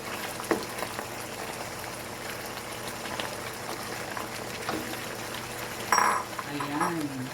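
Pork chop steak simmers in a covered pan with a steady bubbling hiss and scattered pops, while a voice speaks briefly near the end.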